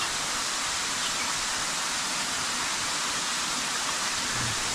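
Athirappilly waterfall roaring steadily, a dense broadband rush of falling water that fills the whole scene loud and unbroken, with no voices heard.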